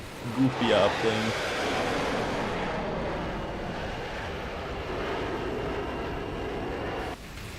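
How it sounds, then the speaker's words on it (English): Loud, steady roar of an F-16 jet engine in a flight combat video game, a continuous broadband drone lasting several seconds after a brief burst of other game sounds at the start, then dropping off near the end. "Engine noises are a little loud though."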